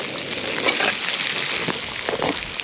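Brook trout cooking in butter in a pan at a winter camp, a steady close crackling sizzle with scattered pops throughout.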